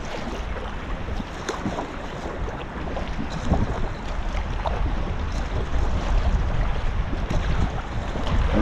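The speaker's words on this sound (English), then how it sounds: "I believe it is the river that I was hearing." The Bernese Aare river rushes and churns steadily close by, a broad continuous wash of water with wind buffeting the microphone and no voices.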